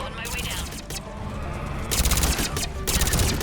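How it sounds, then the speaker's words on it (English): Submachine gun firing in burst mode in Mass Effect Legendary Edition, with rapid clustered shots over steady game noise that turn louder and denser in the second half. "Oh, this is the submachine gun, isn't it?"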